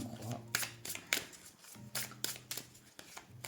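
Tarot cards being shuffled and dealt for a cross-shaped spread, giving repeated soft riffling and slapping bursts in a steady rhythm, close up, with a voice talking underneath.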